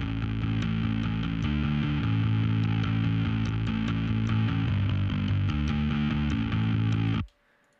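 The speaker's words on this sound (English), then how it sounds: "that's a really good attack, heavy, like kind of distorted bass sound." A heavy, distorted bass guitar plays a thick, gritty riff that rings out steadily, then stops abruptly near the end.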